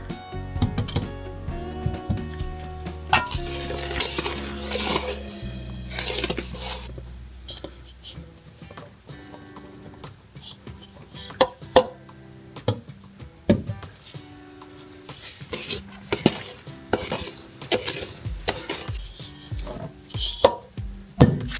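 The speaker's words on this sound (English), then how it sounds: "I'm going to add in the dry ingredients into the butter sugar mixture, a little bit at a time, and I'm going to hand stir this." Dry ingredients hand-stirred into a butter and sugar mixture for snickerdoodle cookies, giving a steady run of scraping and thudding strokes in a bowl, close and fairly loud, with no talk.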